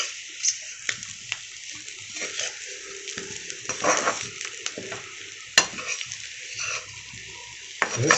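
Baby potatoes roast and sizzle in a pan, with a steady frying hiss broken by occasional scrapes and stirring clatters of a spoon against the metal, heard up close with no talking.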